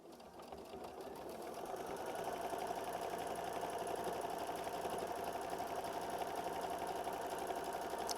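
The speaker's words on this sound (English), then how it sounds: "we're going to sew machine stitch step 12" Sewing machine stitching fabric for a quilt block, a steady close whirring hum that starts softly and quickly settles into a constant even drone, running alone throughout.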